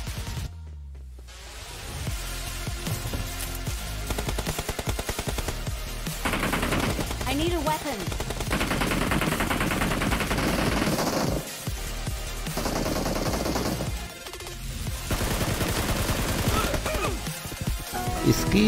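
Rapid, loud AMR gunfire in PUBG Mobile rattles in dense bursts for most of the stretch, broken by a few brief pauses, with someone speaking faintly underneath.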